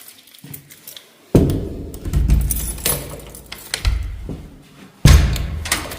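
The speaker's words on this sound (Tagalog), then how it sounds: "Yung pinto namin, disipa na lang." A house door is kicked and banged open on arriving home: heavy, close thuds and slams, with keys jangling and rattling in between and a second hard impact near the end; no talking.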